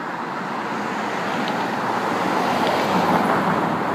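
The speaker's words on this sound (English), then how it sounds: "Traffic on a Friday night is just amazing" Steady road traffic on a Friday night near a North Brandon, Florida property, a continuous broadband roar of passing cars that swells slightly louder toward the end, with no voices.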